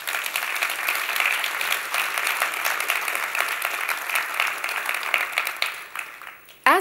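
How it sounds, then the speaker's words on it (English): An audience at an education forum gives a sustained round of applause, dense clapping that holds steady before tapering off near the end. "Would you give these new additions a warm round of applause?"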